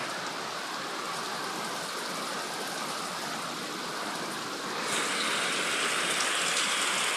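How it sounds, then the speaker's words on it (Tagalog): Steady rain falls on a garden, a dense, even hiss that swells a little louder partway through, with no voices. "Ay naulan."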